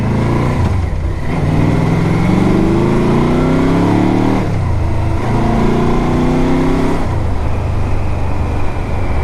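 A 2006 Yamaha Royal Star Deluxe touring motorcycle with bags and a top box runs nearby, its engine revving up twice in long rising sweeps before dropping back to a steady rumble, loud and close.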